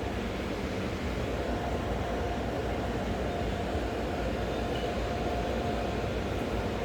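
A train hauled by a WAG-9 electric locomotive pulls into a loop line at Vadodara station as light rain begins, giving a steady, broad rumble with rolling wheel and wagon noise throughout, fairly close and unbroken.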